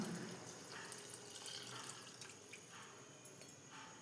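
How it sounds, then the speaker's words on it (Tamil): Water runs and splashes into a cooking pot for several seconds, soft and close, with a few brief clinks near the end. "இப்போ அதுக்கேற்ற அளவு நம்ம தண்ணி சேர்த்துக்கிறோம்"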